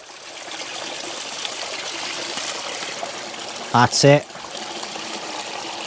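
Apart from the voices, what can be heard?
water filling a hanging bushcraft water bag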